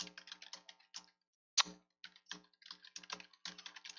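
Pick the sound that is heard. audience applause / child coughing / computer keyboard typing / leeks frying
computer keyboard typing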